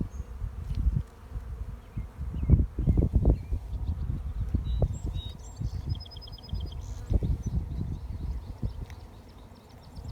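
Honey bees hum and buzz steadily around an open 10-frame hive in a bee yard, close and continuous, with a few louder bursts as bees pass near over a low background.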